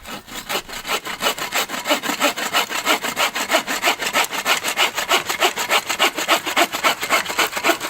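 A hand saw rasps steadily through a dry dead log in quick, even back-and-forth strokes, close and loud with no talking.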